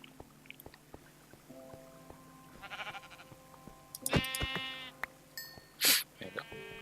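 Minecraft sheep giving short bleats amid game sounds, a few scattered calls with clicks and hits, fairly quiet, with faint speech underneath.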